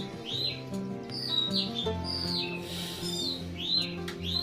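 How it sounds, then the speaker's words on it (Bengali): Birds flock around a shrine mosque where many pigeons gather to feed, giving short chirps and squawky calls at moderate distance over a low, steady ambient hum. "দেখতে পাচ্ছেন আপনারা প্রচুর কবুতর এখানে প্রচুর খাবার দাওয়া আছে কবুতরদের জন্য"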